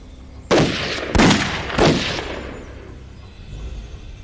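Gunfire in a Chinese anti-Japanese war film: three loud, sharp shots in quick succession, each with a booming echo that fades into a low rumble, with no voices.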